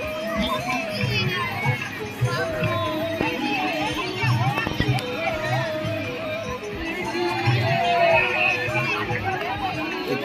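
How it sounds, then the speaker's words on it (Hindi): Dense crowd of visitors chattering at Bhakti Dham temple in Mangarh, Kunda, Pratapgarh at sunset, with children's voices and shouts rising from a steady, close hubbub of mixed talk. "काफी भीड़ रहती है यहाँ पर और बहुत सारे लोग।"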